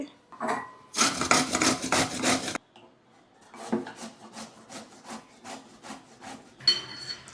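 Bottle gourd (sorakaya) cut in half and rubbed against a grater, heard as a loud, rapid burst of rasping strokes that stops, then returns as softer, steady scraping passes, close and with no talk.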